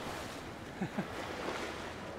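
Strong wind buffets the microphone at a beach in San Juan, with ocean waves and choppy surf washing steadily underneath in a continuous loud roar.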